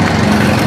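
Boat with dual engines running on one after the other broke down, a loud, steady, buzzing engine drone heard briefly and close.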